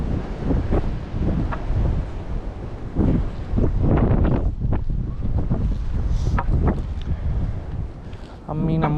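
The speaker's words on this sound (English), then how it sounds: "It's pretty windy" Gusty wind buffets the microphone on a wooded hiking trail in an Ohio park on a warm day ahead of a cold front, a steady low rumble that swells and eases throughout, with footsteps and a faint short tonal sound near the end.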